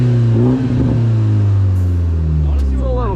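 A Yamaha R6 sport motorcycle in neutral gets a quick rev that swells and settles back to a loud, close idle rumble, with a voice talking over the engine.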